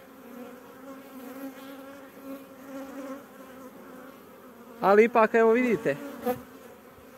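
Honeybees swarm over a wax comb foundation frame pulled from a hive, giving a steady, close droning buzz throughout, with a brief burst of speech breaking in near the end.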